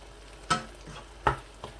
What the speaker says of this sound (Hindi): अच्छे तरीके से मैं भून लूँगा